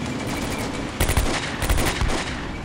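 Machine-gun fire in the Combat Mission WWII game targets a fleeing tank crew: rapid loud bursts of automatic shots crackle close, with two heavier volleys standing out over a constant background of combat noise.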